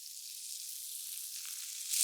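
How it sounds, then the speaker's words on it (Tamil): Horse gram sizzling and crackling in hot ghee in a pan, a steady bright hiss that gets a louder burst of frying near the end. "டேரெக்டாகவே நெய்யில் இப்படி பேனில் டாஸ் பண்ணுறேன்"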